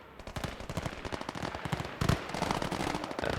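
Rapid gunfire crackles through a battle in the WWII strategy game Gates of Hell: Ostfront, dense overlapping shots with a louder burst midway, no voices.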